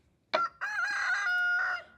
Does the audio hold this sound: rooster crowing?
yes